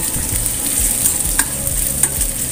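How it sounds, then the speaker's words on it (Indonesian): Shallots, garlic and ginger sizzle in hot oil in a pan, a steady close frying hiss with occasional stirring scrapes, no voices. "menumis bawang merah, bawang putih, dan jahe ya"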